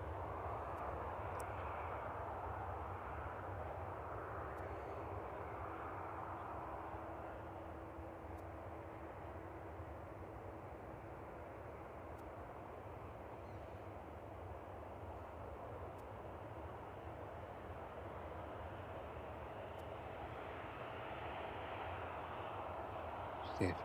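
An aircraft engine roars steadily during evening cargo operations at East Midlands Airport, heard as a continuous broad rumble throughout, moderately distant and fairly faint.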